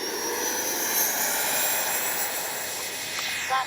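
Freewing 80mm F-5 Tiger II RC jet making a fast pass down the runway, a steady loud turbine whine and rushing roar that holds fairly constant throughout.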